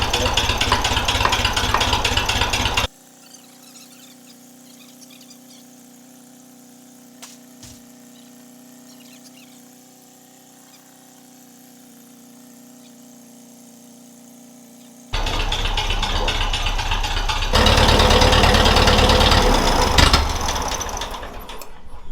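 Farm tractor engine running roughly and misfiring, loud and close at the start, then dropping to a steady low hum before a harsh, loud mechanical clatter returns near the end.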